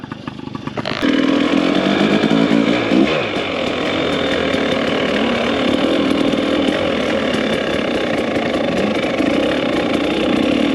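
Yamaha PW50 two-stroke dirt bike engine starting up and holding a steady, loud, buzzing idle close by, with a brief rise in revs early on and no talking.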